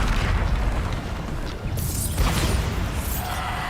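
Bombarda spell blasts in Hogwarts Legacy, a dense rumbling explosion with a second crashing burst partway through, loud and close over continuous combat noise.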